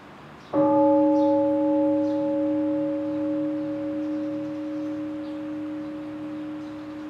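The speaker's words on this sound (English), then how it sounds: "Maybe I need one bell." A meditation bell at a mindfulness retreat is struck once, its clear tone ringing out and sustaining steadily for several seconds as it slowly fades, with a faint room hush behind it.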